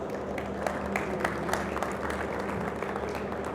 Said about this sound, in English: A round of applause for all of you for making it today to this first day of the show.